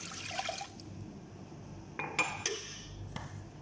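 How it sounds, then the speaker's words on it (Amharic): Water pours into an iron pot in short, quiet bursts of trickling and splashing, separated by pauses, with faint clinks of the pot. "አንድ ኮብ ውሃ እዚህ ጋር አደርጋለሁ።"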